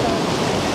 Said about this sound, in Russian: Черноморская волна одна за другой набегает на пляж.